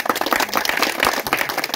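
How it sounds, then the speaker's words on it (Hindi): Villagers in a Basti district settlement clap together after a cobra rescue, a dense, steady burst of many hands close by with no talking over it. "भाई साहब के लिए हो सके तो एक ताली का सहयोग कर दें"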